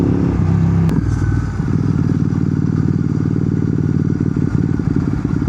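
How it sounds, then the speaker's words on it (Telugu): A Royal Enfield GT650 motorcycle engine turns over and settles into a loud, steady, throbbing idle after a sharp click near the start, close to the microphone with no talk. "ఇప్పటికీ 4 times ఆగిపోయింది బైక్, అయినా మళ్ళీ స్టార్ట్ చేస్తే స్టార్ట్ అయింది"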